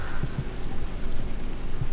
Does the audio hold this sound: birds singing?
no